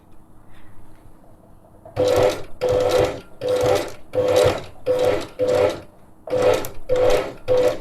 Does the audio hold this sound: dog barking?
no